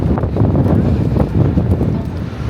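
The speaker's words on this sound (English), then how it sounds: "It's a bit nippy, a bit windy today to be on a rooftop bus." Strong, steady wind buffets the microphone on the open top deck of a London tour bus, a loud continuous rumble and roar with no pauses.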